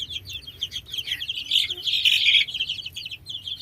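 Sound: young chicks chirping in their pen

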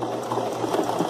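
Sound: sewing machine stitching a seam on a zipper

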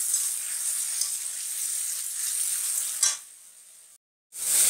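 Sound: onion frying with ginger, garlic and cumin paste

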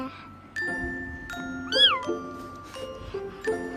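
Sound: cat meowing

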